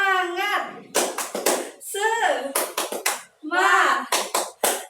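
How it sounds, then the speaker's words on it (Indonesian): Children in a classroom doing a rhythmic group clap led by their teacher, sharp bursts of patterned claps alternating with chanted voices, close and lively. "kita tepuk semangat bareng-bareng ya"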